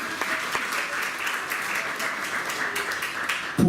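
An audience at a comedy dinner show applauds with a continuous, even wash of many hands clapping, moderately loud and steady throughout.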